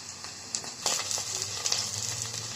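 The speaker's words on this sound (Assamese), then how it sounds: "পিঁয়াজখিনি ৰংচোৱালৈকে ভাজি থাকিম, যেতিয়ালৈ ৰংচোৱা হয় তেতিয়ালৈ ভাজি দিম।" Onions sizzling and frying in a pan for a meat curry, a steady crackle with occasional stirring scrapes, close and fairly loud, with no voices.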